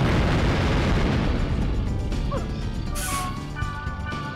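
Malice Light spell explosion in the .hack//QUARANTINE video game, a loud continuous booming blast that roars throughout with bright magical shimmer and chiming tones layered over it.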